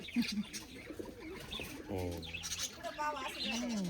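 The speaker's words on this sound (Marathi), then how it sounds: "पाखरं लय पाखरं आहे आपल्याला" Faint bird chirps and soft pigeon cooing come in short bursts at low volume, with a person speaking quietly nearby.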